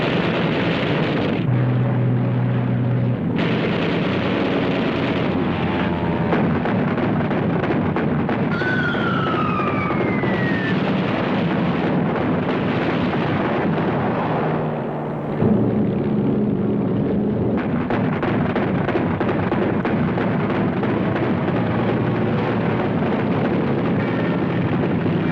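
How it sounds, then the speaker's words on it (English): German aircraft attack shipping off Dieppe in a dense, continuous wartime din of roaring engines, rumbling explosions and a brief descending whine, with no talk. "German aircraft spot the concentration of shipping and attack."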